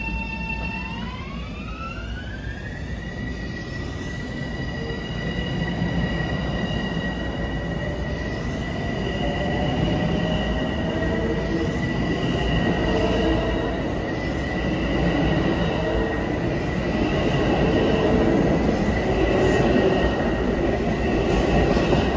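LIRR multiple-unit commuter train 1561 departs westbound from Cold Spring Harbor station in autumn, steady traction motor whine rising in pitch as it accelerates, with rumbling wheels and faint squeals over about twenty seconds.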